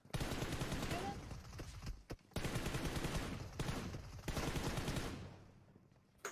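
Rapid gunfire in a multiplayer video game, dense sustained bursts of automatic fire broken by short pauses, fading toward the end with faint voices underneath.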